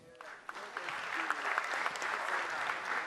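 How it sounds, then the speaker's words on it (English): An audience at a senior high school renewable energy challenge gives a round of applause for the event's sponsors, a moderately quiet, even clatter of many hands that builds slightly and holds steady. "A round of applause for them as well"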